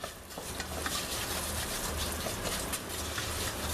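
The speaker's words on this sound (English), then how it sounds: "Now I'm going to start frying off a little bit of my risotto" Rice for a mushroom risotto frying in a pan as it is stirred continuously, a steady dense crackling sizzle with faint scraping, close and unbroken.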